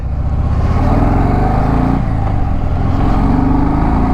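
A Harley-Davidson motorcycle, Street Glide or Sport Glide, pulls away with a continuous loud, deep engine drone that swells as it accelerates, heard up close from on board with no speech.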